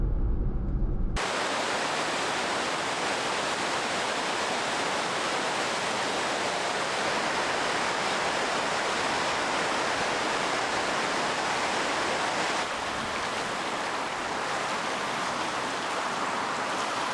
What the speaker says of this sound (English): the flow of river created white water everywhere